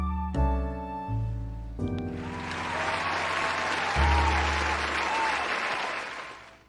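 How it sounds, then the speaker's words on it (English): A crowd claps loudly and steadily for several seconds, applause swelling and then fading, with brief musical tones at the start. "A round of applause!"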